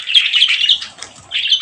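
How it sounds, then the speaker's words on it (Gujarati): Small birds coming to eat scattered roti give bright, repeated chirps and tweets close by, with a short lull in the middle and occasional wing flaps. "તો પણ પક્ષીમાં રોટલી ખાવા આવે છે।"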